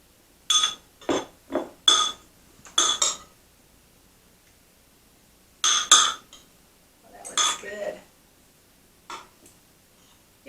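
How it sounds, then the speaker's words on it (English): Utensils clink against a bowl as zoodles are mixed with marinara sauce, a few short bursts of scraping and clinking separated by quiet pauses. "We're going to take some of the marinara sauce and mix it with the zoodles and get that good and coated."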